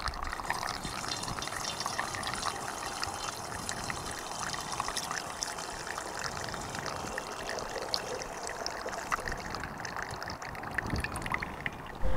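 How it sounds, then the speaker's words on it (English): Fresh apple juice for cider pours through a funnel into large bottles, a steady, continuous splashing stream that stays even and fairly loud throughout, with no talk. "So I'm just going to pour it into this funnel, it's going to go into these large bottles underneath"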